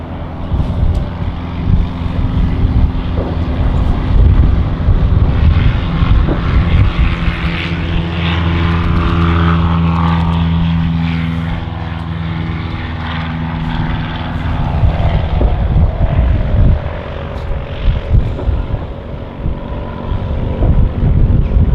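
Propeller aircraft takes off at Manchester City Airport, a loud rumbling engine drone that swells and shifts pitch as it passes, then fades somewhat before building again.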